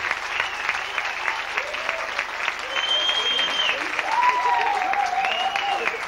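A crowd claps steadily throughout, dense and sustained, with a few scattered cheers and whistles rising over the applause, at a band's concert EP launch.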